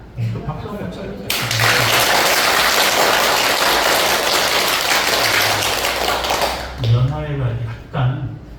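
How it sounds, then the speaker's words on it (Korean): Audience applause at a Buddhist dharma service, a dense sustained clapping lasting several seconds, with someone speaking before and after it. "그 박수 한번 쳐주세요"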